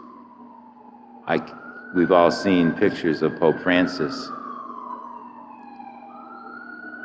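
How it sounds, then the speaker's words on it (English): An ambulance siren wails steadily in the background as it passes, a sustained rising and falling tone that slowly fades away while someone talks over it. "God bless whoever's in that ambulance"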